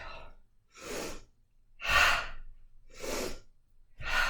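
Slow, deep breaths drawn in and let out during a calm qigong practice, each breath a soft airy rush close to the listener, repeating in an even rhythm with quiet gaps between.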